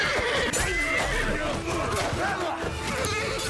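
A horse neighs amid cavalry fighting against a shield wall in Mount & Blade II: Bannerlord, a loud close whinny over busy battle noise and hoofbeats, with voices talking.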